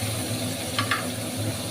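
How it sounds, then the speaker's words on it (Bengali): Ginger-garlic paste sizzles gently with tomato and onion in a pan, a soft continuous frying hiss with a couple of brief stirring scrapes near the middle. "তখন এটা ভালোভাবে একটু নাড়াচাড়া দিয়ে ভেজে নেবো বন্ধুরা"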